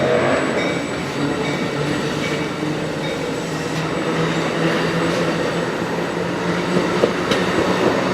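A passenger train with a cab car and locomotives passes at close range, giving a steady, loud, continuous rolling roar with faint metallic rail clatter throughout and no voices.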